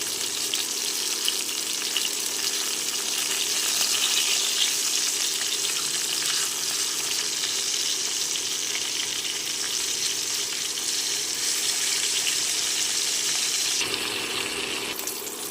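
Fish frying in hot oil gives a dense, steady sizzle, close and loud, with a few faint clinks and no voices.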